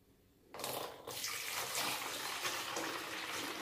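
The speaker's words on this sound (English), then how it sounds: "I'll pour the water in." Water pours into an Aicok stainless steel ice maker in a steady gushing stream that starts abruptly, briefly falters, then continues close and even without speech.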